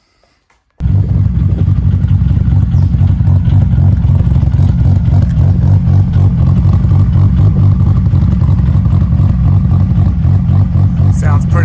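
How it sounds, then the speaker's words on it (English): A Nissan S15 Silvia engine revs hard and steadily on a dyno with its wheels spinning, a loud, continuous, lumpy roar starting abruptly after a brief quiet moment and holding for about eleven seconds. "This shows you how much it does wheel spin on the dyno"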